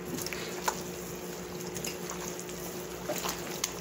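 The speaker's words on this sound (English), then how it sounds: "Now all we do is mix it together." Meatloaf mixture of ground meat, onions, garlic, beaten egg and V8 juice being mixed by hand, giving close, continuous wet squelching and squishing with no talking.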